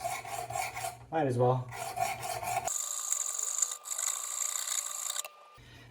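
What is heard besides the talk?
butter knife sharpened on WorkSharp Precision Adjust diamond plates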